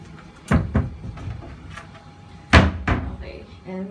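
A closet door in a hotel room is opened and shut, giving several sharp wooden thuds and knocks close to the mic, with quieter talk and room noise between them.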